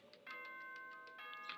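A school announcement chime from the Danganronpa video game plays as a soft, quiet sequence of bell-like tones over a faint sustained hum.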